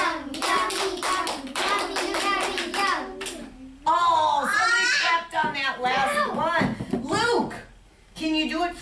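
A child claps hands in a steady rhythm to a chanted food rhyme in a children's music class, the claps close and crisp under sung and spoken voices of an adult and child.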